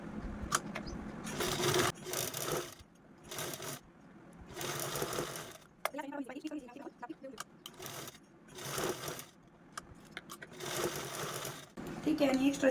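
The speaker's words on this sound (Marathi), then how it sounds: "यावरती पण स्टिच करून घेऊ" A domestic sewing machine stitches fabric pieces for a handmade bag in repeated whirring runs of a second or two, separated by pauses, with someone talking between and over the bursts.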